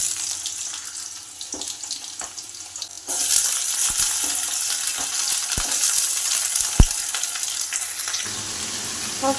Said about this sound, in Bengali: সব সবজিগুলো কড়াতে দিয়ে এখন ভালো করে ভেজে নেব ঢাকা চাপা দিয়ে